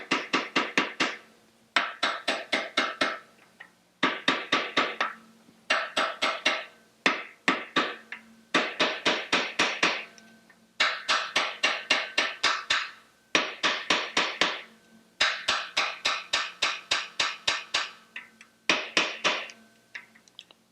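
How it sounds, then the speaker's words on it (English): A hammer tapping a part into a Porsche 356 engine during lower-end assembly, in rapid bursts of light metallic taps, each burst a quick run of strikes separated by short pauses, close and crisp. "it helps to have a hammer around in order to tap it in just slightly"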